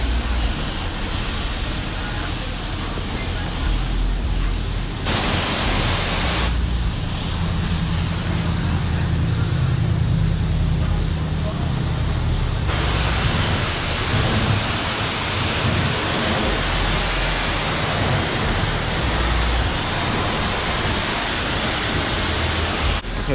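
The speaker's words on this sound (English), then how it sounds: "Completely rinse all of this off." A pressure washer at a touchless car wash rinses soap off a car, producing a steady, loud hiss of spraying water that continues throughout with slight shifts in tone.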